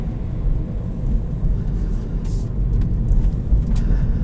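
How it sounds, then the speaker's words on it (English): A 2020 Subaru BRZ Limited with the automatic in manual mode, heard from inside the cabin as a steady, loud, low engine and road rumble with no clear rev blips and no talking. "Pop it over into manual mode. You get some nice rev matching between gears."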